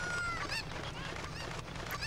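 Cuckoo chickens in the Ocarina of Time video game give short fowl-like clucking and squawking calls, with several quick bird cries over a steady low background hum.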